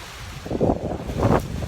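Waves from Lake Inawashiro wash onto the sandy Shidahama shore in two soft surges, mixed with gusty wind noise over the microphone.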